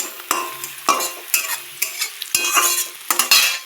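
Chopped onions fry in a pan and are stirred in repeated bursts, each scrape of the spatula bringing a loud rush of sizzle and clatter, close up with no voices.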